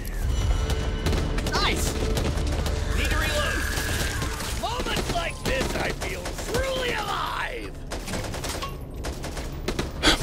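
Gunfire rattles from a weapon in the video game Doom, a steady run of rapid shots with booms and sharp cracks over game effects and a voice talking on top.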